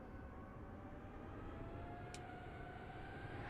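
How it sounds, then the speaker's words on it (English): A plane coming in to land in Microsoft Flight Simulator, its engine a steady, distant drone with a rising whine that holds through the whole stretch, along with a brief high chirp partway through. "Oh look, there's a plane coming in."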